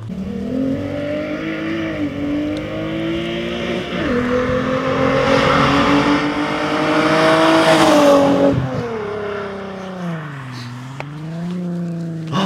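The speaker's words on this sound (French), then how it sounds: "La M346 c'est ma voiture, je la kiffe, le bruit, j'adore." A M346 car engine revs loudly and close, alone, with the pitch rising and falling through several long pulls and dropping back before climbing again.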